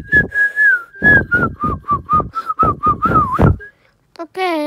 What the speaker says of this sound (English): I love whistling, so I love the sound.